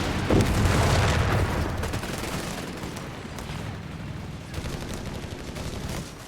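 A white phosphorus strike lands on a machine gun position in a video game: a loud opening boom followed by a rolling fusillade of crackling bursts and impacts that continues steadily throughout.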